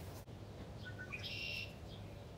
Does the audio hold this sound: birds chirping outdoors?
yes